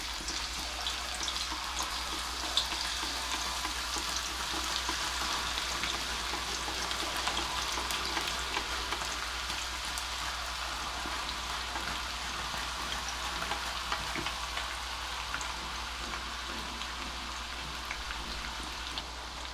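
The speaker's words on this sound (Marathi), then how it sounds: "त्याच्यावर आता आपण तेलामध्ये डायरेक्ट हे काप टाकणार आहोत" Banana slices dropped into hot refined oil over a low flame, a dense, even bubbling hiss that carries on steadily without a break, like rain on a surface, with no voices.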